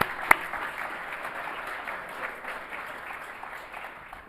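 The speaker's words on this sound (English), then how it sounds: "Big round of applause to all league players." Applause at a school fall sports award ceremony, a soft, steady patter of clapping that stays fairly faint and distant, with one sharp louder clap early on.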